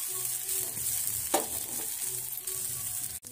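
A batter pancake being cooked on its second side on a pan gives a soft, steady sizzle with faint crackles and a light scrape, heard alone and fairly quiet.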